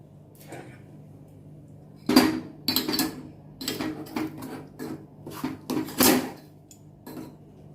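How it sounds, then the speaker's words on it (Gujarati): Ragi flour is mixed with ground coriander-cumin and turmeric in a bowl with a utensil, giving a run of sharp clinks and scrapes against the bowl in irregular bursts over a low steady background hum. "હવે આ બધું સારી રીતે મિક્સ કરી લઈશું."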